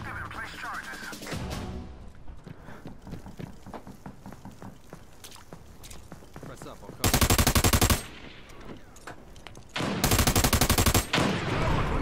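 Rapid automatic gunfire in a video game, fired in two loud sustained bursts near the end after a stretch of footsteps and quieter shots, with a voice talking over the action.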